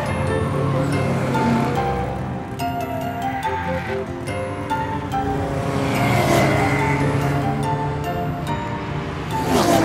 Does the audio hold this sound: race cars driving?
yes